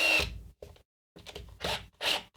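Power drill driving screws into a hollow Stratocaster-style guitar body, a few short close bursts of whirring and grinding separated by brief pauses.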